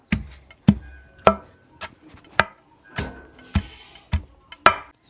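Finger millet (ragi) adai being pounded by hand, about nine heavy, evenly spaced thuds in a steady rhythm, close and clear with little else around them.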